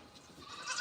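Goats in a pen giving a faint bleat that rises toward the end, quiet and brief with no talk over it.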